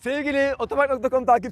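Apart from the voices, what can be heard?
No everyday noise stands out behind the speech.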